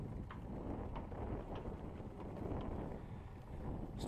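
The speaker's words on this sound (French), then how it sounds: "Ah, ça y est, il y a des rafales bien sûr, 11 nœuds dans le port." Gusty wind buffets the microphone in a sailing harbour full of masts, a steady broadband roar with a few brief ticks and clinks above it, close and continuous with no voices.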